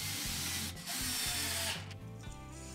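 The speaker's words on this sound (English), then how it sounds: "And adding some screws." Screws are driven into the wooden front fence of a crosscut sled, a powered driver whirring in a few steady bursts with brief pauses between, close and fairly quiet.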